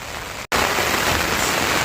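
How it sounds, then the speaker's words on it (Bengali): Heavy rain pours steadily on a riverside during catfish fishing, forming a dense, even hiss after a brief gap. No voices are heard. "আজকে এই প্রচণ্ড বৃষ্টি পড়ছে"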